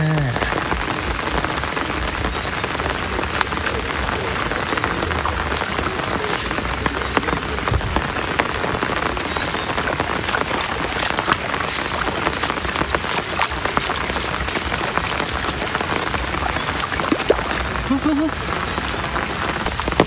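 Heavy rain pours steadily during a snakehead fishing outing, making a dense, close hiss with pattering on surfaces that continues unbroken for twenty seconds, and a faint voice is occasionally mixed in.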